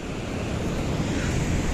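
Surf washes steadily onto the quiet, nearly empty Pantai Jetis beach in Purworejo, a continuous broad roar of breaking water mixed with wind buffeting the microphone, with no voices.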